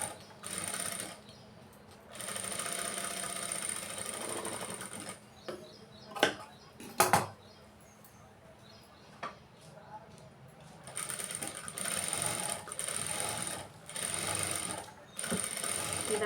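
An electric sewing machine stitches the back part of a garment in several bursts, each with a steady mechanical whir and light clicking. There are quiet pauses between bursts and a few sharp knocks in the gaps.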